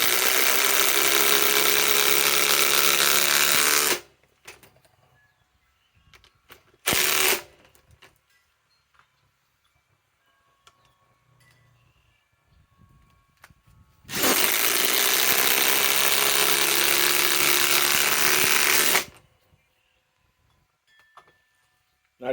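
Ryobi PSBIW25 compact impact wrench on an 8 Ah 21700 battery, loud and close, hammering under load in two long bursts and one short burst separated by quiet stretches, outdoors in cold weather.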